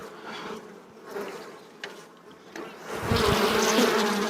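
Honeybees buzzing at an open hive during a spring inspection, in irregular swells, a few passing close, the drone growing louder and denser toward the end.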